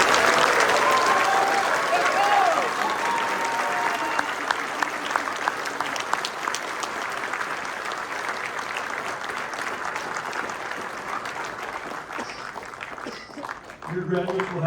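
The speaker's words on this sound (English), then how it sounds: "please give a round of applause to the graduates of Basic Leader Course Class" Audience applause for the graduating class of a military Basic Leader Course at JBER, steady and sustained for most of the clip, then thinning out near the end.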